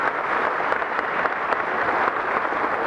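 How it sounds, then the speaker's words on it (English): An audience claps for mentors standing at a motivational speaking event, giving steady, dense applause throughout with no talk. "Give them a round of applause as they're standing here."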